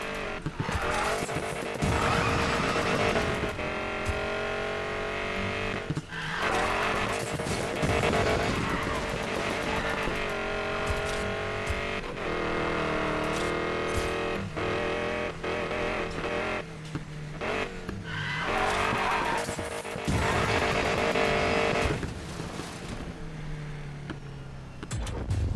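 Need for Speed Payback car drifting: a loud, continuous engine roar with repeated tire squeals and skids, sustained throughout with brief dips between slides.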